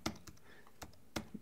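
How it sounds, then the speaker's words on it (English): Computer keyboard keys clicked while repeatedly applying a Photoshop filter, four or five sharp isolated taps spaced irregularly, quiet and close with no talk. "that keyboard click you're hearing is just me applying the same filter over and over"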